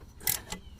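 Two quick, faint metallic ratchet clicks from a 12 mm ratchet snugging an alternator bolt on a 2000 Honda Accord 2.3 L, close up and otherwise quiet.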